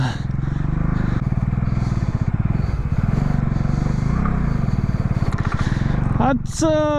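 A motorbike engine labours steadily uphill on a steep route toward a hilltop viewpoint in the Chikmagalur hills, a loud, close, continuous drone with a pulsing rhythm, ending with a brief squeal and short sharp rattles.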